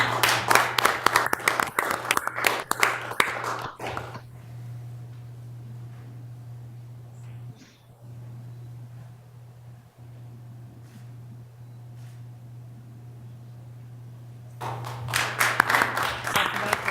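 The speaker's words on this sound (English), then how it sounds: "Let's do a round of applause." An audience at a school board meeting applauds in two bursts of dense clapping, one at the start and one near the end, separated by a long lull of hum and faint room noise.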